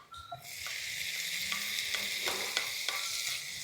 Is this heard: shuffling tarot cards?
no